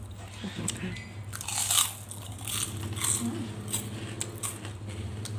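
Crunchy bites of Lao/Thai papaya salad with crispy pork, repeated close crisp crunches and chewing over a low background hum, with speech mixed in.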